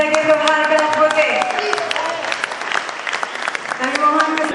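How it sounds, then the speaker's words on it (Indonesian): An audience at a Jakarta press conference for a colossal dance drama breaks into loud, sustained applause, with a public-address voice ringing over the clapping throughout. "Kita beri tepuk tangan yang meriah sekali lagi untuk harga Oke."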